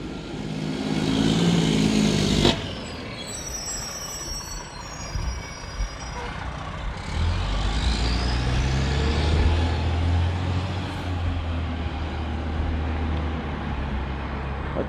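A fire engine in the town of Boonsboro, Maryland rumbles past on a street, a heavy truck engine growing into a low, steady roar amid traffic noise with no speech.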